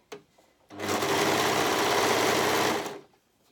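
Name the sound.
sewing machine stitching a sweatshirt seam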